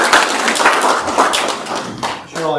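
Clapping from an audience at a church annual meeting, a steady patter of many hands filling the room, with a voice briefly audible near the end.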